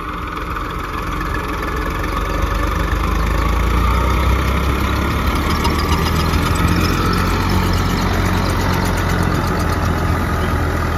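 A tractor engine runs steadily at idle and under light load, a loud, continuous low rumble that stays close and unbroken from start to finish, with no one talking over it.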